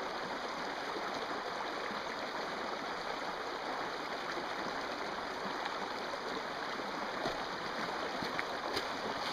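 Creek water flows steadily in a forest near Mt. Hood, a continuous near rushing babble that holds even throughout, with no talk.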